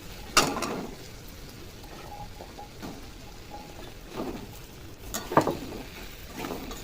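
Taro pieces being sautéed with spice masala in a pan on low flame for a prawn and taro curry: soft stirring scrapes and faint sizzling, with a few louder spatula strokes, no talking.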